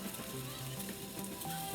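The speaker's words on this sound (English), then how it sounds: "And when it fries and when it sizzles," Steady, close sizzling of a tortilla frying in a pan, a continuous crackling hiss with no talking.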